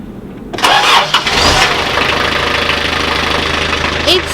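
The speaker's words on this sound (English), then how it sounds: "Ryan, we fixed our own engine!" A narrowboat's diesel engine, just repaired, cranks and catches at close range, then settles into a loud, steady mid-pitched running rumble with a knocking texture that continues to the end.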